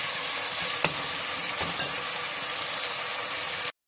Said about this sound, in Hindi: थोड़ा सा पानी ऐड कर दिया है मसाले में और इसे अच्छी तरह से भून रही हूँ।